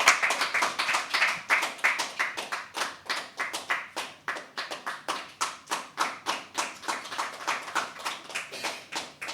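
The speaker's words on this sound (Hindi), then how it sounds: "जोरदार तालियों से स्वागत कीजिए संगीता त्रिपाठी जी का" A small audience at a live poetry open mic claps in an even, rhythmic beat to welcome a performer, each clap sharp and close with no voices over it.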